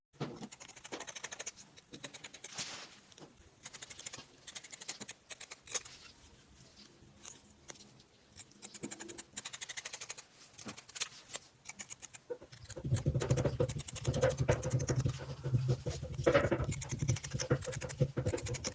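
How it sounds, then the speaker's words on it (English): Scissors snip through fabric while cutting out a bustier pattern piece, a steady run of close, crisp cuts and scratchy blade sounds, becoming louder and denser with some rustling toward the end. "I'll go ahead and just cut out my piece."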